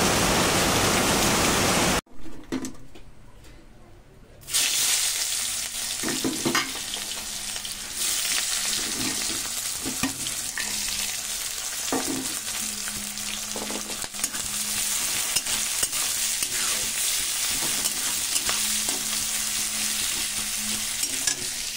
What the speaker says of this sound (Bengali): তো চলো বাইরে দিয়ে দেখো কি হারে বৃষ্টি পড়ছে